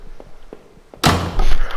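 Door in a home-set video game shoved open: a few soft taps, then a sudden loud thunk followed by a creaking, rattling swing that stays loud to the end.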